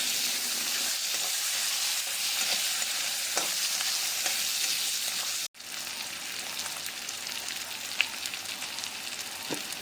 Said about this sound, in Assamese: পিঁয়াজখিনি দি অলপমান ৰঙচুৱা হোৱালৈকে ভাজি ল'ম।